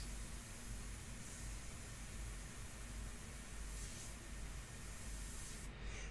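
Airbrush spraying India ink onto paper at low air pressure, a steady, even hiss running unbroken from start to finish at close range, with no voices.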